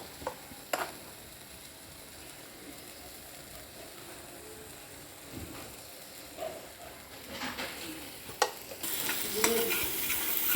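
Masala spices sizzle quietly in a pan while a spoon stirs and scrapes now and then. The sound is faint and low, and the scraping gets louder toward the end. No one talks.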